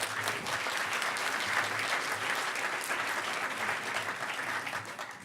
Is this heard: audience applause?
yes